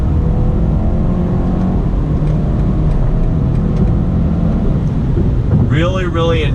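Heard from inside the cabin, a 2019 BMW 330i accelerates in third gear. The engine drone climbs steadily and loudly over road rumble, and a voice comes in briefly at the end.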